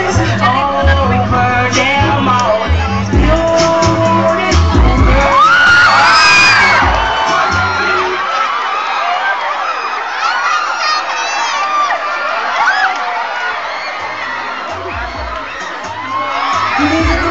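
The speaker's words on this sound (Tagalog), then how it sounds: "ang palakpakan at hiyawan nyo" A lively crowd at a gay pageant in La Paz, Tarlac cheers and shouts loudly, with whoops and yells rising over booming music that drops away midway, leaving the noisy hall.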